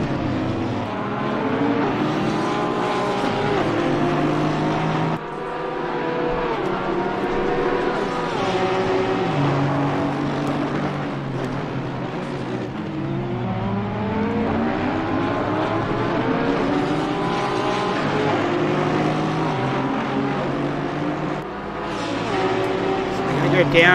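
Race car engines roaring and shifting continuously through Eau Rouge at the Spa circuit during a sprint series race, with a commentator talking over the steady engine noise throughout.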